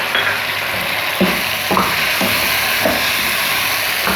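Chicken karahi frying in a pan with black pepper and green chillies, a steady loud sizzle with a few scraping stirs at irregular intervals, close and without talk.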